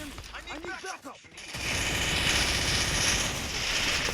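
Rapid gunfire from the mobile shooter game Free Fire erupts after a short stretch of talk and continues as a loud, dense burst of shots to the end.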